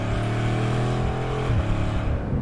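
A Bugatti Chiron Super Sport accelerates at full throttle on a German autobahn, its engine roaring in a continuous, loud rising drone heard from inside the car, with a brief shift midway.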